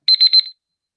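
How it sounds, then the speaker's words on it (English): A phone alarm sounds a short, rapid burst of high electronic beeps, three or four quick pulses lasting about half a second, clear and close with no talk. "Oh, sorry, my alarm just went off."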